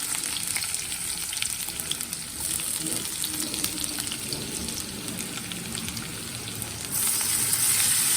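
Cumin, chopped onion and garlic fry in a pan for an aloo palak curry, giving a steady, dense sizzle that runs the whole time without a pause, with no talking.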